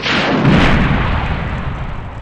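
A rocket launcher fires in the video game Resident Evil 3, a single heavy blast with a booming thud that rolls off into a fading rumble over two seconds.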